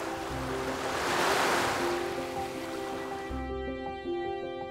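Soft surf rolls in at Jinha Beach in Ulsan, South Korea, as a brief swell of wave noise, mixed with gentle background music, no talking.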